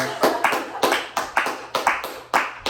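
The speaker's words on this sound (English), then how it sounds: "Everyone give her a round of applause." A small group claps for a birthday, loud, close, uneven bursts of hand claps coming in quick clusters, about eight distinct surges.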